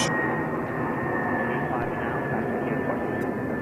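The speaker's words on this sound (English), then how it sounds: "departing JFK to Baltimore, Maine. That is an Emperor E-175 LR, 14 years of age." Embraer E-175 LR jet airliner, 14 years old, departing JFK airport: a steady broadband engine roar with a faint high tone, holding constant throughout under occasional faint talk.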